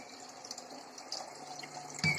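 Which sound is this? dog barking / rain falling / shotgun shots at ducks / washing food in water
washing food in water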